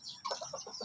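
A young Shamo cross rooster, three months old and bred from Belgian Shamo and Shamo Aseel lines, gives a short, broken attempt at a crow. The call is faint, close and clucky, lasts under a second and has no talking over it.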